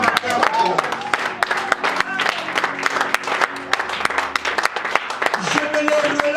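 A congregation at a Christian worship gathering applauds and cheers, with dense, continuous clapping and crowd noise filling the scene and sharp hand-claps standing out throughout.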